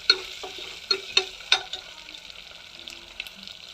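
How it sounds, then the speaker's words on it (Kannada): Chopped potatoes hit hot oil in a pan, a soft crackle and sizzle punctuated by several sharp clinks and stirring taps near the start that thin out toward the end; no one speaks. "ಇದನ್ನು ಎಣ್ಣೆಗೆ ಹಾಕ್ರಿ ಅಂದರೆ ಲಘು ಕುದೀತವ್ರಿ ಅವು."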